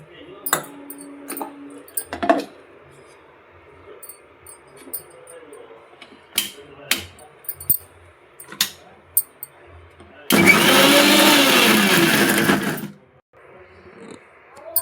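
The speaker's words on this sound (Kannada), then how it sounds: "ಸ್ವಲ್ಪ ಶುಂಠಿ, ಪುದೀನ ಸ್ವಲ್ಪ, ಕೊತ್ತಂಬರಿ ಸ್ವಲ್ಪ, ಇದಿಷ್ಟನ್ನು ಚೆನ್ನಾಗಿ ಮಿಕ್ಸಿಗೆ ಹಾಕೋಣ." A kitchen mixer grinder whirs loudly and steadily for about three seconds as it grinds ginger, mint and coriander with a little water for pani puri. Scattered clicks and clatter come before it.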